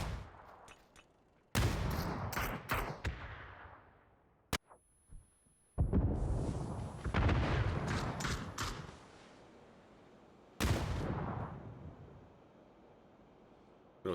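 In PUBG, a grenade blast booms loud and close, part of a run of heavy, abrupt bursts of gunfire and explosions separated by near-silent gaps.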